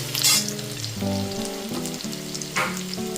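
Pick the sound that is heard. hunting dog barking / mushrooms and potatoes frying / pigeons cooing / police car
mushrooms and potatoes frying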